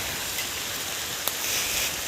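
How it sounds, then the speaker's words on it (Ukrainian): Rain falls steadily over a rural garden and poultry yard, a soft even hiss of drops with one brief louder splash, fairly faint and without voices. "Дивіться вже, як пішло все, дощик іде."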